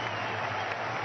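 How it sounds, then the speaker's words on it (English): Cricket crowd applauding a batsman after an innings, a steady wash of clapping heard briefly from a distance. "Gets a big ovation from this crowd"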